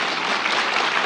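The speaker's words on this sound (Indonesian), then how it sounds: "Tepuk tangan buat Tuhan." A church congregation claps during a sermon, a short, dense burst of applause at moderate loudness with no speech over it.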